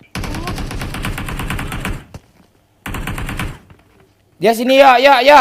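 Bursts of rapid automatic gunfire in PUBG Mobile come in two separate rattling volleys with short gaps between them, and a player's voice speaks loudly at the close.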